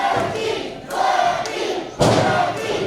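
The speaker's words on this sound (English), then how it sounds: "You can hear this crowd behind the king." Crowd at an American Championship Pro Wrestling show roaring and cheering loudly throughout, swelling in bursts with thuds from the ring cutting through the noise.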